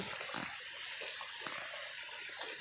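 Clear irrigation water flowing steadily in a backyard channel, a continuous broadband rush with small splashes and gurgles throughout, fairly close.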